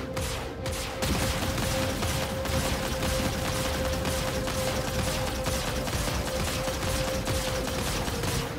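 Spaceship guns in Star Citizen firing in steady, rapid bursts for several seconds over a constant hum, a dense mechanical chatter that stays loud and even throughout.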